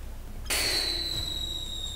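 A video game firework goes off with a sudden bright burst, followed by a long, steadily falling whistle-like tone that lingers over a soft background.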